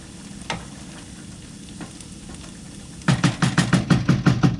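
Bourbon chicken gravy for rice thickens in a pan on the stove, a low sizzle broken by a quick run of about ten rhythmic stirring scrapes toward the end.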